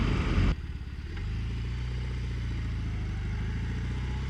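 A BMW R18 motorcycle rolls along at low speed, its big twin engine thumping in a steady low rumble after a brief louder rush of wind and revs at the start.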